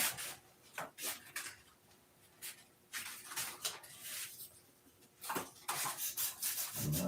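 Hand sanding with a piece of sandpaper produces close, raspy scratching strokes in uneven bursts, some short and some longer, separated by brief quiet gaps, with no voices heard.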